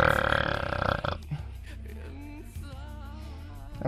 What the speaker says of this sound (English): that burp was fucking vile